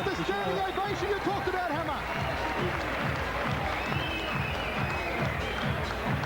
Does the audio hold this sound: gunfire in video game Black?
no